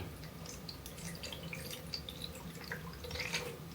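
Water running into a container, likely from a tap, with steady trickling and dripping close by over a faint background hum, no talking.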